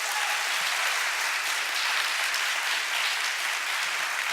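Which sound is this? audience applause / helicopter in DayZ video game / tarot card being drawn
audience applause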